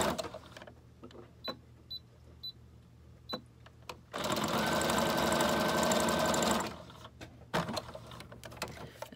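A sewing machine stitches a junk journal. A few isolated clicks and taps lead into a loud, steady mechanical whir of a few seconds of stitching, then stops, followed by scattered handling knocks.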